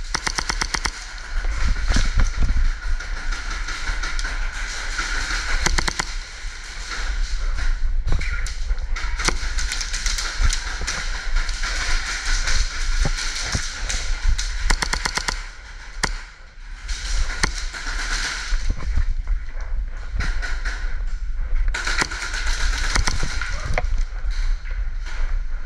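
Video game gunfire in a free-for-all match rattles in dense, loud bursts of rapid automatic shots, nearly continuous with brief lulls, up close throughout.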